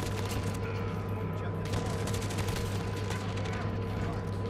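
Rapid SMG fire in a video game, the Fennec submachine gun rattling in dense continuous bursts over a loud, busy game mix, with voices talking at moments.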